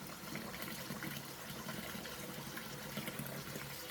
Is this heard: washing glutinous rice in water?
yes